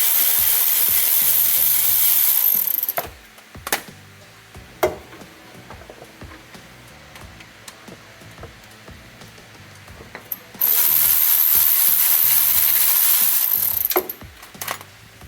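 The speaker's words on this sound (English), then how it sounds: "So we're gonna have to take these bolts out." A ratchet wrench loosens bolts on a Honda Acty engine with long, steady, close clicking runs at the start and again later. Sharp clanks of tools and metal sound in the quieter stretch between the runs.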